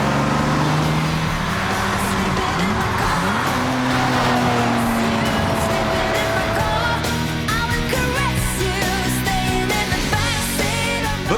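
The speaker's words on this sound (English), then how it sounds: "when I get this Bugatti into the turbo zone, no one wags a finger. I'm driving a fast car quickly" A Bugatti sports car driven hard and fast, its engine note rising and falling through the gears with tire squeal and skidding, loud and close throughout.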